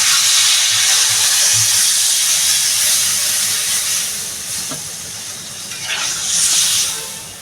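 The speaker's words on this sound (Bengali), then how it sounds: "আমি এবার পরিমাণ মতো জল দিয়ে দেবো।" Water poured into a hot pan of sautéed taro curry sets off a loud, steady hiss of steam that eases midway, with a brief sputter and a second swell of hissing near the end.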